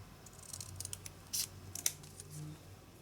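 Scissors snipping through a piece of paper, several short crisp cuts in a loose rhythm with a couple of louder bright snips, close by in a quiet room at an arts and crafts table.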